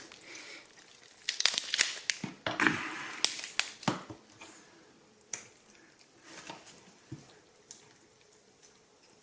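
A chicken carcass being cut and its bones snapped by hand, with sharp close cracks and crunchy crackling bunched early, then sparser single snaps fading out, no talk.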